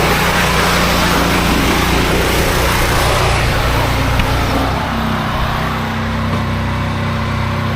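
A 2017 John Deere combine's engine runs loud and steady from a cold start, a dense continuous drone with low rumble throughout, easing slightly in the last few seconds.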